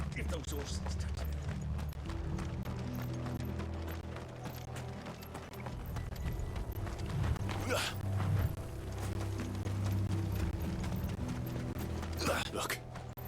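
Horse hooves clip-clop at a steady walking pace in Final Fantasy 16, running continuously through the scene with dense game ambience and low rumbling beneath.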